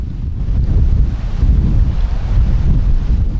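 Sea waves crashing against rocky cliffs by an island lighthouse on Korea's west coast, a loud low roar with strong wind buffeting the microphone.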